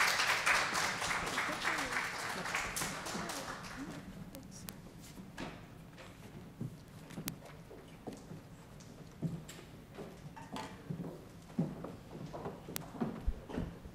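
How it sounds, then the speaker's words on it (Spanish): Brief clapping from a small audience after project presentations, loudest for the first few seconds and then thinning into scattered claps and faint room noise. "realmente se merecen un aplauso los tres grupos"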